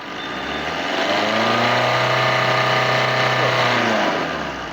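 A car engine revs after a Bosch injector service, rising smoothly to a loud, sustained high-pitched roar, then falling back, with the earlier knocking fault gone and no one talking.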